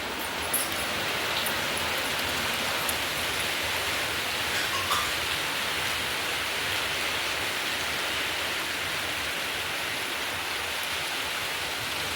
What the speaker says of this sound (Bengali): এই যে বৃষ্টি শুরু হয়ে গেছে দেখুন বাইরে